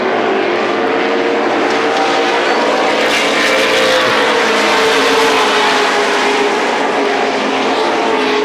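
Modified race cars lapping Thompson Speedway in the closing laps of a 125-lap feature, a dense, loud, continuous engine roar from a full field passing close by.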